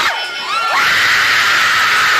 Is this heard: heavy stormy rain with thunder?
no